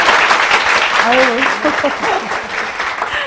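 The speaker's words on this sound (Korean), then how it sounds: "두 분께 박수 부탁드립니다." Church congregation applauding during a televised service, dense clapping heard close and loud, with a voice speaking and exclaiming briefly over it before the applause thins slightly.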